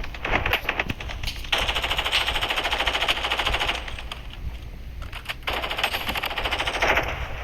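Rapid automatic gunfire in a video game firefight, loud bursts of machine-gun fire rattling almost continuously with brief gaps, close and dense throughout.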